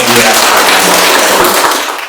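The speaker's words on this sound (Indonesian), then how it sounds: "Tepuk tangan buat dia." Loud, dense clapping fills a university lecture room as students applaud a classmate, a continuous close rush of many hands that tapers slightly at the end.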